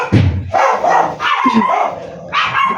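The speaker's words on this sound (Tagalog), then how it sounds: "Ayan, galit na yung aso natin." An angry dog barks close by in a home garden setting, giving a few loud, harsh barks in quick bursts with brief pauses between them.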